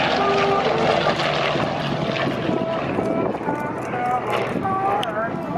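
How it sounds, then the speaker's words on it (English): Propeller aircraft from the Vietnam era circle overhead at an outdoor airshow, a steady broad engine drone with wind buffeting the microphone, while a commentator's voice carries over the PA. "the convoy is moving way off to our right along the taxiways right now as the aircraft circle overhead"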